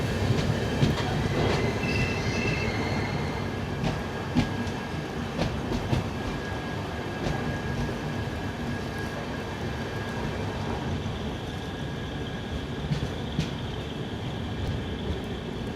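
The Mysuru-Belagavi Vishwamanava Express runs steadily with a continuous rumble of wheels on rails and a rhythmic clickety-clack, with occasional faint squeals, heard close and sustained.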